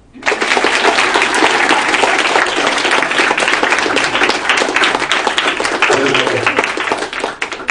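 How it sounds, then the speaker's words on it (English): A school audience breaks into loud, dense applause that rises quickly and stays full and steady for several seconds, with scattered voices and cheers mixed into the clapping. "Well, that's nice applause."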